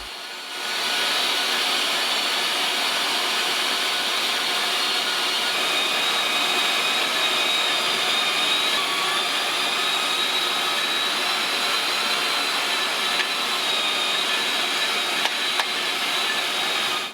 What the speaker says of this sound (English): Take a meat grinder and pass everything through the nozzle with the largest holes.